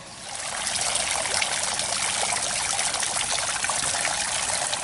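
Sulfur-scented spring water trickles steadily from a natural spring, a continuous close bright splashing and dribbling with no voices.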